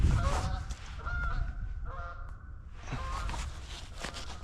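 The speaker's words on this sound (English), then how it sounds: "You could hear the magnificent Canadian goose." Canada geese honk repeatedly along a hiking trail at Forest Ridge Preserve, a string of moderately distant calls over outdoor rustle and footsteps.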